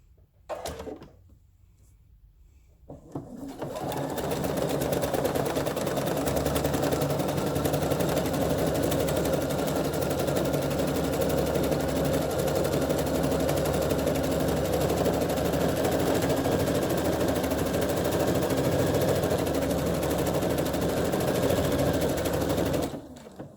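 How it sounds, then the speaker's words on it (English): A sewing machine stitches a decorative design onto soluble film, running steadily and loudly for about twenty seconds after a brief quiet start, with no talk. "I'm just going to select a number of the stitches on here and literally just going to stitch it"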